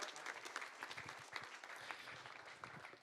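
Audience applause fills the room after a talk at a free software tech meetup, dense steady clapping throughout, moderately loud with no speech over it.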